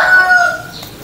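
A Bangkok rooster crows close by, one loud, drawn-out tonal call that holds briefly and then tapers off within about a second.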